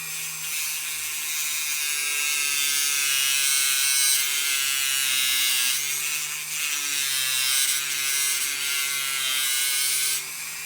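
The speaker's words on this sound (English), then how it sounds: "I'm going to use my little Dremel cutting disc and I'm just going to cut on the shaft right next to the wheel" Small Dremel cutting disc grinding through a metal wagon wheel axle shaft right beside the wheel, a loud high whine that rises and dips as the cut bites, close and continuous with no voices.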